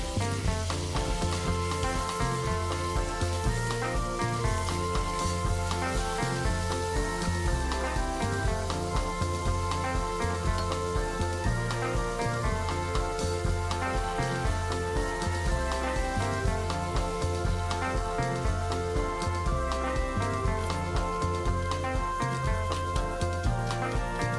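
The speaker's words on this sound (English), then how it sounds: "I add the beef, vegeta, coriander powder and black pepper." Beef sautéing in a pot with onions, vegeta, coriander powder and black pepper for a stew, a steady sizzle running throughout under continuous background music.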